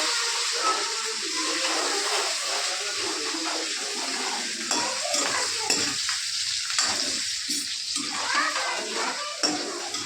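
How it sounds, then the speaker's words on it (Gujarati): Cumin, red chillies and garlic fry in a pan and are stirred, giving a continuous hissing sizzle with irregular spoon scrapes and clinks close by. "હવે આપણે હલાવી લેવાનું છે"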